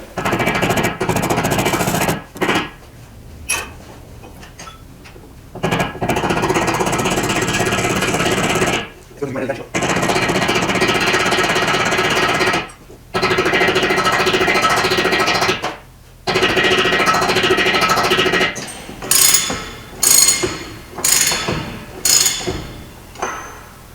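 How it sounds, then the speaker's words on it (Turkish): Loud, steady mechanical noise comes and goes in long stretches, then a few sharp taps of a plastic mallet ring out near the end as a car wheel bearing is tapped into place. "Dikkatli bir şekilde plastik çekiçle e, üstüne koyacağım bir takoz da bunu e, şey yapacağım, yerleştireceğim."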